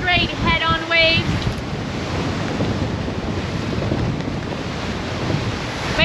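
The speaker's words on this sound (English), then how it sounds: "the wind just changed almost against us, and the waves are like straight head-on waves." Strong wind buffets the microphone aboard a sailing catamaran heading into head-on waves on a passage to Grenada, a loud continuous rush with surf wash and a brief burst of speech at the start.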